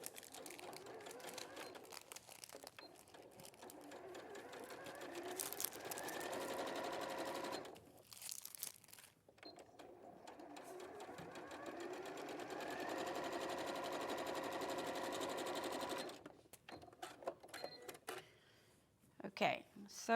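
A sewing machine runs a quarter inch seam on a tulip tote bag in two long steady bursts with a short pause between, close and clear, followed by quieter handling.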